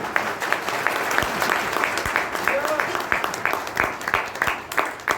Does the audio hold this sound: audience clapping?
yes